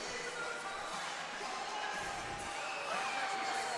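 A volleyball crowd in the Bren Events Center cheers and roars steadily throughout, with a few shouts and whistles rising over the dense noise of the arena.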